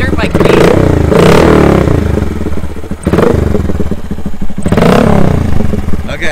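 A 125cc dirt bike engine revs loudly up and down in repeated bursts, rattling close by, with a person talking over it.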